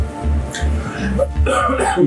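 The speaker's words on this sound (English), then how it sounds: "Sorry for coughing in your ears." A person coughs a few times, short throaty bursts close to the microphone, during a tabletop dice game.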